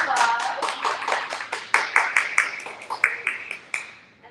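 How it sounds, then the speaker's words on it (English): An audience at a book event applauds with quick, evenly spaced claps that sound like a small group close by, the clapping gradually thinning and fading out at the end. "Let's go ahead and give them a round of applause."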